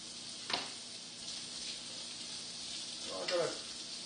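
Onions hit a hot pan for a teriyaki vegetable stir fry, giving a steady close sizzle with two sharper bursts of crackle a few seconds apart.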